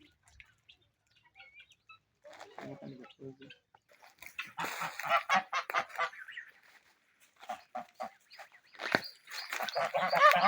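Domestic guinea fowl call from a farm flock, a string of harsh, rapid cackling bursts that grow louder and denser, close by and overlapping one another.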